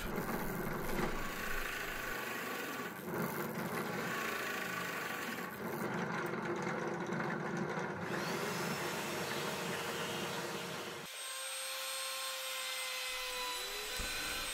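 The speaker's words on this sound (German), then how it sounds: "Ich bohre diese jetzt 40 mm tief." A drill bores a 40 mm deep hole into wood for a DIY tealight holder, a loud continuous whirring grind with shifts in tone, then the motor winds down and stops near the end.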